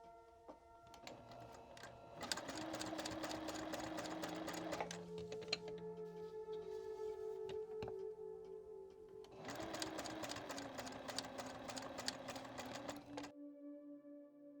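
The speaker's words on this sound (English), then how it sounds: "fold these 2 pieces in half and sew along this line" A sewing machine stitches two folded fabric pieces of a sashiko coin purse kit, running in two long steady bursts of rapid mechanical clatter separated by a quieter pause, close and alone.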